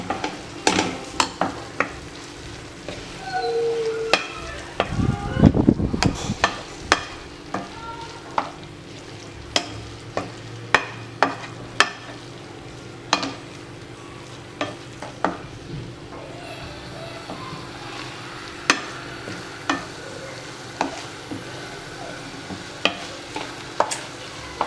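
Minced meat filling for bourek pastries is stirred together with beaten egg in a bowl: a quiet series of repeated scraping and clacking strokes in an uneven rhythm, with one busier burst of mixing near the start and no talking.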